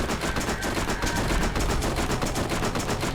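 An SMG in the video game Borderlands fires in a rapid, continuous automatic burst, loud and close, with evenly spaced shots running without pause.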